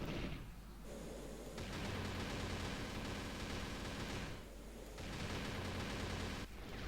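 Twin-engined aircraft in the flight sim IL-2 1946 firing two of its 20 or 30mm cannons, a dense sustained roar of rapid fire in long bursts with brief pauses, loud over steady engine drone.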